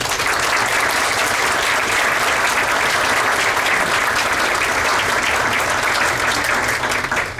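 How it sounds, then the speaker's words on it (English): Sustained, loud applause from the audience at a school district board meeting, a dense field of clapping that fills the whole stretch without a break and ends abruptly. "Ladies and gentlemen, please give a round of applause for Susie Ion."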